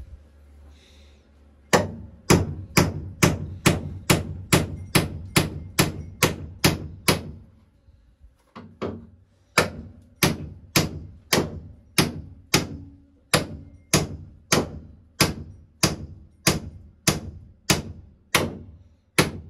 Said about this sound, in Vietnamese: Đóng được đinh không? Có búa đóng không?